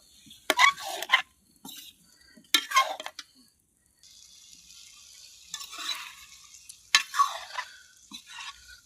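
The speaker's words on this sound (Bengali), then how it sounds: "আমরা গ্রামের মানুষ এইভাবে মাছ আগে কষে রান্না করে নেই" Fish being stir-fried kosha-style in a pan in a village kitchen: bursts of scraping and clattering stirring against the pan, with a steady sizzle of frying between them, fairly close and with no talk.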